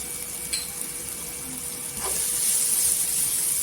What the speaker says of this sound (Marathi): मसाले तेलावर छान असं परतून घ्यायचं